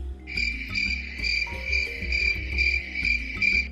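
Cartoon-style grasshopper chirping, a steady bright insect trill pulsing in short repeated bursts, clear and close with nothing else behind it.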